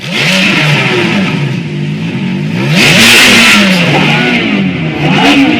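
Manual-swapped Ferrari F430 engine revving up and down, loud and close, with rising and falling pitch sweeps across several blips and no talking over it.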